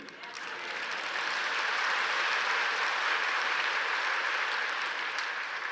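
Steady, even applause from a church congregation fills the space, rising quickly and holding as a dense, moderately loud wash of clapping with no voices over it.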